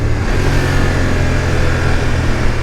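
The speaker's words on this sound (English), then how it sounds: "Sometimes the quick shifter on this bike works exceptionally well. Even the downshifts." A motorcycle with a quick shifter rides along, its engine droning loudly and steadily close by with a slight rise and fall in pitch, while wind rushes past.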